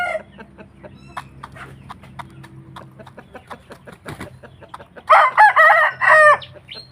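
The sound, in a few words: chickens and rooster crowing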